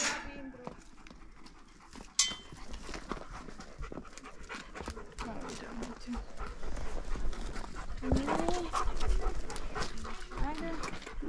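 A dog pants in quick rhythmic breaths close by during horse riding in Serbia, with hoof clip-clop and people talking over it.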